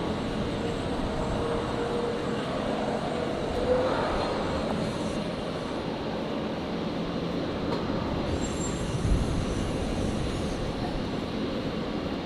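The broad engine roar of a QantasLink Dash 8 turboprop taking off from runway 01 left rises steadily and holds, heard from a viewing spot at Brisbane Airport and fairly distant.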